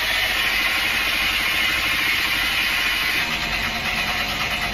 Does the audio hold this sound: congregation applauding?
no